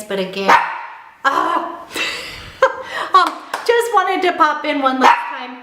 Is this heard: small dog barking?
yes